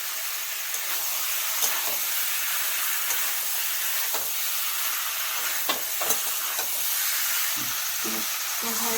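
Fried pointed gourd goes into a hot pan spiced with turmeric and cumin. A continuous loud sizzle follows, with scattered clinks and stirring knocks and no talk.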